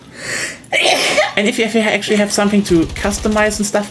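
A single sharp sneeze bursts out near the microphone, followed at once by someone talking continuously during a Battlefield 2042 game stream.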